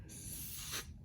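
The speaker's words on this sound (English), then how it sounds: "Spray it on there." A can of spray adhesive sprays onto denim jeans fabric being mended, a single steady hiss lasting just under a second that swells briefly louder at the end before cutting off, close and alone.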